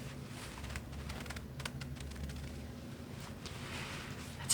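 A rice-filled heat pack is squeezed and handled up close, giving soft, continuous granular rustling with scattered crisp clicks. The sound is quiet and steady, with no voices.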